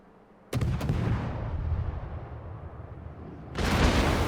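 Battleship main guns firing shells in a naval video game: a loud, booming salvo followed by a long rumbling roar, then a second heavy blast near the end.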